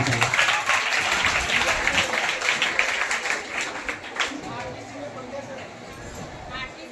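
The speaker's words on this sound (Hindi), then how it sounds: "जोरदार तालियां" Applause from schoolchildren and teachers at a school quiz contest for grades 6 to 8, a dense, steady patter that fades somewhat toward the end, with voices mixed in.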